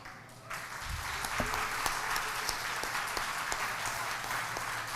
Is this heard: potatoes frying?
no